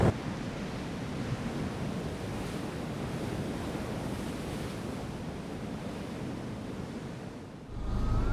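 Ocean surf washes steadily onto the shore in a continuous, roaring hiss mixed with wind buffeting the microphone, fairly faint and unbroken, with a thump of handling noise near the end.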